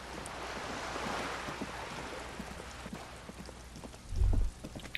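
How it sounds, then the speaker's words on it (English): Steady rain falls over the city of Revachol in the video game Disco Elysium, a continuous hiss of drops with a brief low thump near the end, no voices. "All around you, rain falls on the great city of Revachol"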